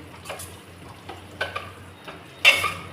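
Onion-tomato masala roasting in a pan for dhaba-style baingan bharta, with a low sizzle under sparse spoon scrapes and one sharper metallic clatter near the end, fairly quiet and close.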